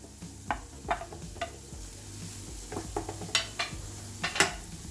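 Mushrooms being stirred into cooked masala in a pan, with irregular spoon scrapes and metallic clinks over a faint low sizzle, quiet and close, with no talking.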